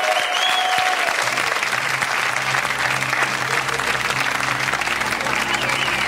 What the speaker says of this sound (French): Je vous demande de l'accueillir et de l'applaudir.